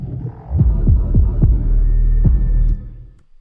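Deep, booming dubstep bass hits with reverb and a low-pass filter giving a washed-out, muffled tone and reverberant tail, a few heavy thumps over a sustained low drone.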